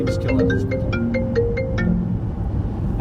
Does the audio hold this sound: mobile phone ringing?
yes